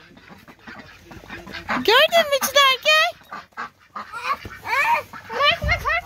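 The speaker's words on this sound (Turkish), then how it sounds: "Ay bakın ördeklere bakın." Ducks in a park quack and honk loudly in bursts, close by, while a child and an adult talk over them.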